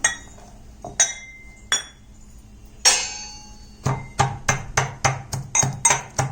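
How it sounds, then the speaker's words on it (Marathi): Garlic being pounded for a chickpea-greens dish, sharp clinking strikes at first spaced apart, then a quick run of regular, closely repeated knocks, up close with no talking. "आता आपण लसूण ठेसून घेऊया"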